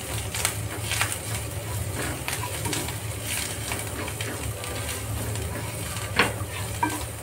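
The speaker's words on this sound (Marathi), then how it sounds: "हळद, चवीनुसार मीठ, कोथिंबीर सगळं चांगलं मिक्स करून घेऊ।" Potato patty masala with turmeric, salt and coriander being stirred and mixed in a hot pan, with steady sizzling and scraping through the clip and a few louder stirring knocks near the end.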